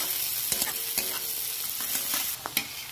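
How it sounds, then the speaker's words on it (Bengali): Chopped onion and garlic frying lightly in a pan, with a soft steady sizzle and a few sharp spoon-scraping clicks while being stirred, close and fairly quiet. "পেঁয়াজ কুচিটা দিয়ে দেবো, রসুন কুচিটা দিয়ে দেবো, একটু হালকা করে ভেজে নেব।"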